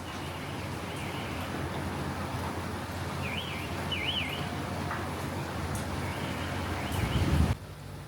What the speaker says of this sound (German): dass der Vogel hier klingt, wie wenn ein Auto aufgeschlossen wird?